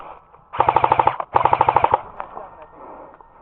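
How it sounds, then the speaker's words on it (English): Airsoft guns fire in an outdoor skirmish: two rapid full-auto bursts of about eight sharp, loud shots each, close by, followed by a brief echo and then quieter field noise. "taking fire from the south end of the crooked wall"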